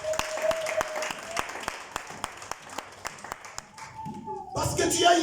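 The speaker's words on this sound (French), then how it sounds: "Est-ce qu'on peut acclamer pour la gloire du Seigneur?" A church congregation applauds and cheers during a worship service, starting with sharp, evenly spaced claps under a speaking voice and swelling near the end into a loud burst of cheering and clapping.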